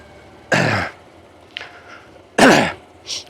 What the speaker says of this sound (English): I'll try to cut out all the coughing